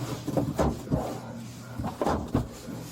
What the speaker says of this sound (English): And she's shaking the door.